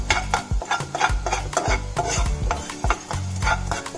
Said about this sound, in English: cumin seeds, and the peppercorns. Roast well till the aroma comes.